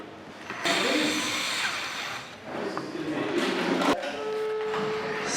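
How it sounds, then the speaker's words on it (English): A power drill bores a hole through a piece of wood, a steady broadband whir running loud and close with a brief break near the end before a thinner tone resumes. "I'm drilling a hole in this piece of wood"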